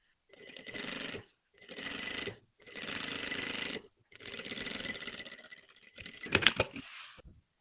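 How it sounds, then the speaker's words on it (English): A sewing machine stitches the side seams of a wedding lace bodice in four separate runs of steady mechanical whirring, each burst lasting about a second or more and separated by short pauses. A brief sharper clatter follows near the end. "I'm going to sew my seams"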